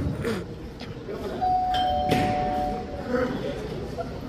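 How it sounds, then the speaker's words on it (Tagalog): A doorbell rings once with a sustained electronic tone, heard amid people talking loudly in a room. "Nag-doorbell ulit."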